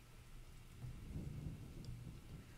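Rain falls steadily with a low rumble of thunder rolling underneath, faint and distant overall, like a light drizzle turning heavier.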